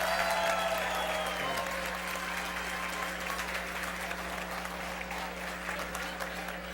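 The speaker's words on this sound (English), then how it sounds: "Notice the Milken staff over here applauding the loudest." An audience applauds at an institute speech event, a steady, moderately distant wash of clapping with a low hum beneath, continuing evenly throughout.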